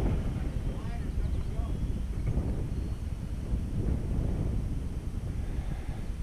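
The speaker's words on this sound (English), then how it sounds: "It's a little windy." Gusty wind buffets the microphone in a steady low rumble, with faint voices murmuring underneath.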